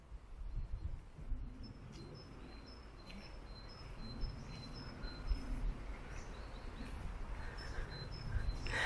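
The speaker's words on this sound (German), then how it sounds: "ich höre definitiv 5 oder 6 verschiedene Vogelarten um mich herum an ihrem Jeepen" Faint, high chirps from small birds repeat scattered over a low outdoor rumble, distant and soft, with no talking.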